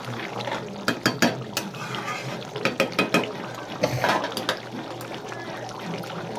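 Spice masala being stir-fried dry in a pan for a kochkochi recipe, with a steady scraping and sizzling bed broken by repeated sharp clacks of a spatula against the pan, close and fairly loud, with no talk.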